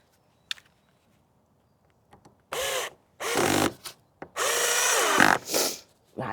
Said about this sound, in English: I'm just screwing it from that little post into the chair